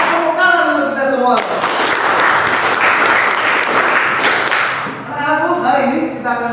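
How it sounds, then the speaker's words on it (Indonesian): Students in a classroom break into a loud burst of clapping lasting about three seconds, with voices speaking just before and after it. "Tepuk tangan untuk kita semua."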